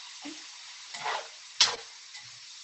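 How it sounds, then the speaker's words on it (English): Food fries in a pan, heard faintly over a call connection: a soft sizzle broken by three or four brief scraping stirs spread across the moment. "you can hear it sizzle"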